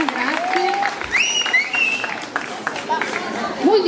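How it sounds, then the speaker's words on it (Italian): Audience applause at a dance competition show in Castellucchio, Italy, a sustained crowd clapping heard together with whistles and cheers throughout. "Un applauso per togliere un po' di emozione"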